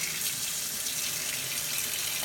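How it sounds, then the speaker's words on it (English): Cold tap water runs steadily over a freshly fired vape coil during a cotton replacement, a close, continuous hiss of flowing water with no talking. "And then what I like to do is hit it with a little cold water."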